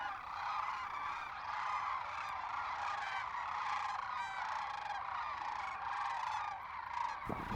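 Sandhill cranes call in a continuous, loud chorus of rolling, bugling cries, many birds overlapping with no pauses and no voices over them.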